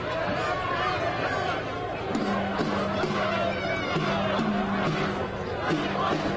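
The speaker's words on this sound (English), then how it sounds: "You hear the crowd chanting" A protest crowd chants rhythmic repeated phrases outdoors, with many voices rising and falling together over constant crowd noise and chatter.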